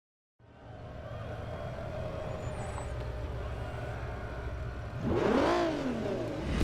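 Race car engines in Forza Motorsport 3 drone steadily at the start line of an all-wheel-drive open class race, then surge into a loud, rising rev near the end, with no talking.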